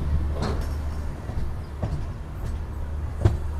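A passenger train pulls away from Pakala Junction toward Nagercoil, a steady low rumble with periodic clanks and knocks of the carriages, fairly close and continuous.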